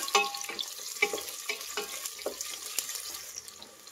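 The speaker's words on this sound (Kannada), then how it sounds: "ಈರುಳ್ಳಿ ಒಂದು ಸ್ವಲ್ಪ ಫ್ರೈ ಮಾಡಬೇಕು" Two medium onions frying in a pan for hitikida avarekalu rice bath, heard up close as an even sizzle broken by regular scraping stirs, with no talking.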